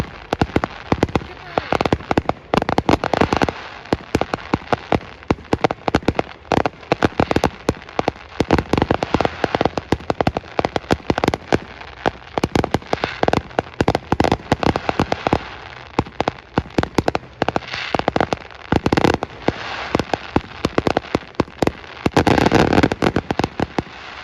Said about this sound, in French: fin du feu d'artifice